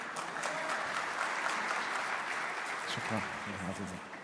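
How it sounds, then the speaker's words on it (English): Audience at a panel session applauds steadily throughout, a dense wash of clapping from a seated crowd, with a voice briefly heard near the end. "Please, a big round of applause for Dr. Saadi."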